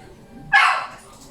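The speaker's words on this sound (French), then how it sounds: "petite pause parce que le chien n'arrête pas d'aboyer et je pense qu'il a faim" A single loud dog bark, close by, cutting sharply through a quiet room and trailing off quickly.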